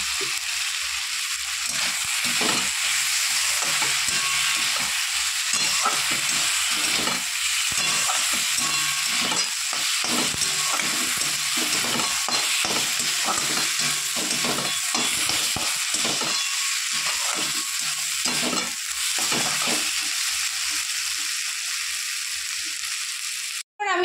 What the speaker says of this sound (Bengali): একটু নাড়াচাড়া করে এটা আমি নামিয়ে নেবো